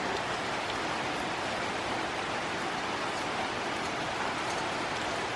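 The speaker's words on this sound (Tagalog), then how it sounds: "Sana tumigil na yung ulan" Steady rain pours in a rural province, a dense, unbroken hiss of falling water at even loudness throughout, with no voices heard.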